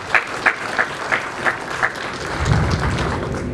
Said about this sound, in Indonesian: Aplaus buat Pak Gubernur kita